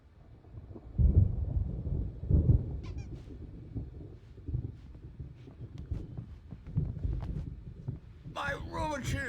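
Thunder rumbles in the video game Alan Wake Remastered, deep rolling booms rising and fading several times at medium distance, with a voice speaking briefly near the end.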